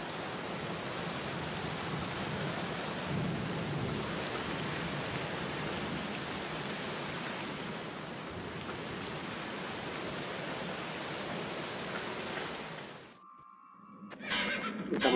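Rain in the 2003 video game The Black Mirror falls as a steady, even hiss for about thirteen seconds, then cuts out abruptly before other game sounds rise at the end.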